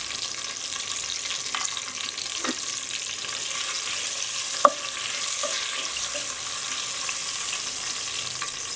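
Whole cardamom, cloves, cinnamon, bay leaves and mace frying in hot oil for pulao, a soft even hiss with a few faint pops and one sharp click partway through, close and quiet, no speech.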